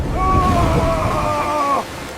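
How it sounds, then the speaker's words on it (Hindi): Strong sea waves in a storm make a loud, steady rushing roar throughout, with a thin whistling tone riding over it before it eases slightly near the end. "समुंदर की लहरें बहुत तेज हो गई हैं।"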